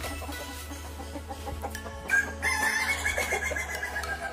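Soaked chickens, just drenched with water, cluck and squawk nearby, their calls growing louder partway through over a steady low hum.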